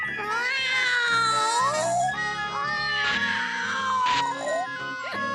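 A cat meows loudly and repeatedly in long, wavering, drawn-out cries, close by with no talking; a sitcom scene.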